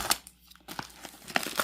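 Plastic packaging of a CYCPLUS AS2 PRO MAX electric pump crinkles in a few short, close bursts with quiet gaps between them, and no one speaks.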